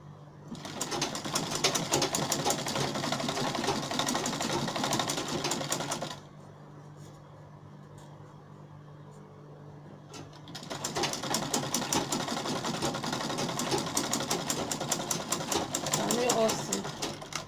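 Domestic sewing machine stitching fabric for a front-zipper pencil skirt, loud steady whirring runs that pause for several seconds mid-way, then resume at the same close, even pace.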